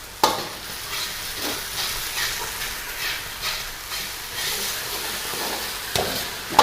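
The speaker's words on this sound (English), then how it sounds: "Now mix your slurry well and quickly add it to the wok" Slurry poured into a hot wok of drumstick Manchurian gravy and stirred, giving a steady sizzle and scraping stir with bright hiss throughout, close and fairly loud, no talking.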